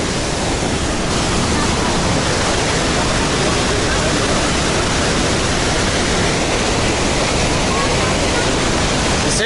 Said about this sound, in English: If you fell into this waterfall, I don't think you'd last very long